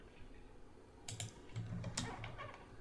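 Quick bursts of keystrokes on a computer keyboard as a command is entered, close and fairly quiet, a few scattered clicks followed by a denser cluster, with no talking.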